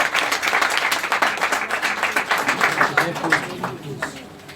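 A church congregation applauds to acclaim the Lord during a sermon, a dense, sustained wash of many hands clapping at close range for several seconds, with scattered voices blending into the crowd before it starts to thin toward the end.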